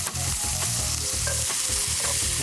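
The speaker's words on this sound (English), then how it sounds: "So we're gonna let our sausage cook for a couple minutes" Sausage patties fry loudly in a pan, a steady close crackling sizzle with repeated soft scraping and stirring pulses throughout, no talking.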